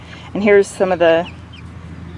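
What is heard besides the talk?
mixed-breed seven-week-old chickens clucking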